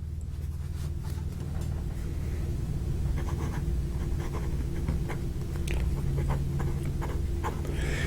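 A Pilot 78G fountain pen with a fine nib writes on paper, making a steady close scratching and rustle over a low background hum.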